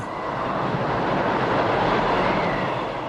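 A steady, broad roar of rushing cyclone wind fills the whole stretch, loud and constant without letup.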